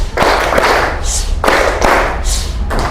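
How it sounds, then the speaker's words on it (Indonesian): A classroom group claps in a rhythmic clap-clap-pause pattern during a lesson on patterns: loud, close, sharp bursts of clapping that recur in a steady cycle with brief gaps between them. "Tepuk-tepuk diam, oke? Sampai 3 kali"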